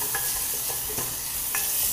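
Onion frying in a pan as the base for risotto, with a steady sizzle and scattered stirring scrapes throughout, close and moderately loud.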